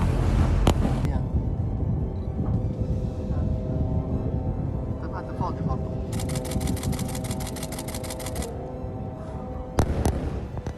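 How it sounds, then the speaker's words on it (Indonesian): Explosion booms in Gaza during armed conflict, a couple of sharp, loud blasts at the start and near the end over constant dense background noise, with a rapid crackling burst in the middle and voices present throughout. "Dentuman ini sudah biasa terdengar di telinga mereka."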